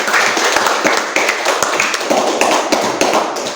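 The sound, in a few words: class clapping hands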